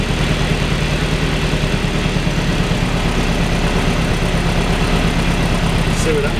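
An Austin Mk1 with an Arden 8-port head runs steadily on light throttle, a close, continuous low engine drone with an even rumble throughout.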